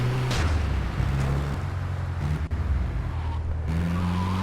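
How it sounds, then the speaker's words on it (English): The bulletproof car in the video game GTA3 drives steadily, its engine a loud, continuous drone with shifting pitch and a brief tire skid partway through, with no talk over it. "Retrieve the bulletproof car and drive to the shoreside whale"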